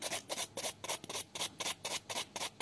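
A nail file rasping over a hardened acrylic gel nail surface in quick, regular strokes, about four per second, close and soft, without talk.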